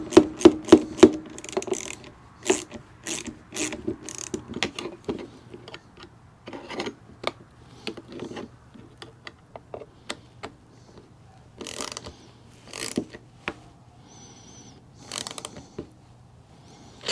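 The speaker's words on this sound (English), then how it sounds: "I'm just going to put a little bit of wrench on there." Wrench ratcheting while a DIY GoPro camera mount is tightened, a quick run of sharp clicks followed by irregular bursts of ratchet clicks and metallic rattles, close and alone without talk.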